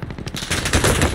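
A loud, close burst of rapid automatic gunfire in the Call of Duty Warzone video game, shots tumbling over one another for just over a second.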